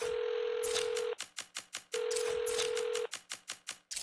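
A phone ringing in the video game Saints Row, with two long electronic rings, each followed by a quick run of clicking, rapid tones, then a brief pause before the second ring.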